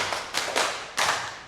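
Hand claps from a group of women in a counting clap game, four crisp claps in an uneven rhythm, close and loud over a light background hiss.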